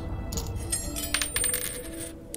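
Coins being collected in the horror video game Angst, a quick series of bright metallic jingles and clinks over a low ambient hum, with no talking.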